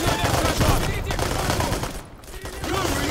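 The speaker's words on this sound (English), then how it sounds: "Shooting into the grass." Gunfire in the war game Army Men Of War, a loud, close, dense barrage of overlapping shots rattling on throughout with no break.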